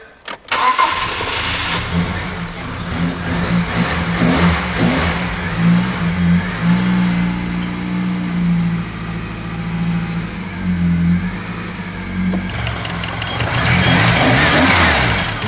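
A BMW 316 fitted with a lightened flywheel, on a dyno bench, cranks and fires, then revs hard and repeatedly near the mic, its engine note rising and falling sharply with quick, loud bursts before revving up again.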